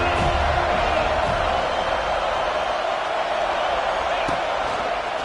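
Stadium crowd at a football game roaring steadily behind the home defense on a big third down, a loud, unbroken wash of cheering with no letup throughout.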